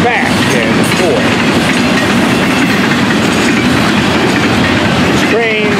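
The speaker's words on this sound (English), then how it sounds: "Oh, they just run these trains back and forth." A Florida East Coast Railway freight train rolls past close by, its wheels clattering in a loud steady rumble with brief squeals of wheels on the rails.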